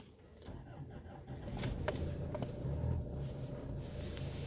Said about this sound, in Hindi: ये है जी इसके डीजल इंजन का साउंड।